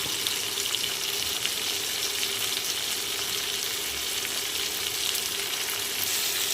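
Vegetables frying in a pan with salt, turmeric and green chilli for a lentil chorchori, a dense, even, loud sizzle running throughout with no talking.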